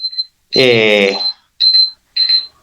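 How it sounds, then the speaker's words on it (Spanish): A loud electronic alarm beeping in short, piercing bursts: one longer tone followed by two shorter ones, heard up close indoors with no talking over it. "no sé cómo sacar esta alarma ahora"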